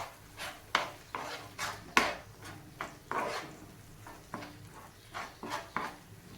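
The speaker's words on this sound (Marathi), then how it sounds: "आता टाकूयात आपण यामध्ये अंडे आणि हे सर्व मिक्स करून घेऊयात" Beaten eggs stirred into spiced onions in a pan for Maharashtrian egg bhurji, a utensil scraping and clinking against the metal in uneven strokes, close and fairly quiet, with no talking.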